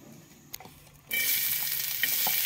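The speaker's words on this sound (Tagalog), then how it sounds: "Tapos magigisa na po tayo mga kuragon. Yan, gisa lang po." Garlic hitting leftover frying oil in a pan: after a quiet second with a couple of clinks, a sudden loud sizzle bursts up and holds steady, with a few stirring knocks.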